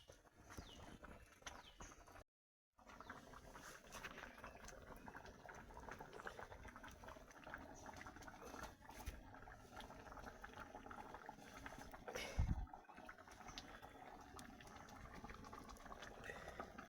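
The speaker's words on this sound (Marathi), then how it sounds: "एकदा भात शिजतोय आता फक्त." A pot of rice bubbles steadily on a village wood-fired chulha while a meal is prepared outdoors. The soft, continuous boiling gurgle runs quietly throughout, with faint background noises.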